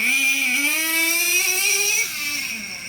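A Traxxas Revo 3.3 nitro RC truck drives nearby, its small high-pitched engine whining and rising in pitch as it accelerates, then dropping back after about two seconds.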